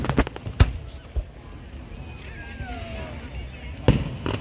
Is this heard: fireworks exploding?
yes